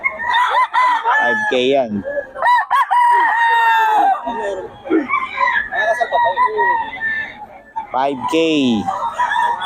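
Gamecock roosters at a market in Bocaue crow loudly and repeatedly, with calls overlapping and a few clucks mixed in, close by, and someone speaks between the crows.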